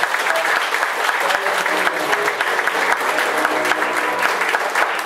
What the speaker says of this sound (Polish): Jeszcze większe brawa.